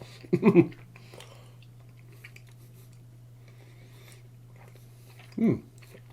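Hard, chewy peach candy being chewed near the mouth, two brief bursts of wet chewing separated by a long quiet stretch over a low steady hum.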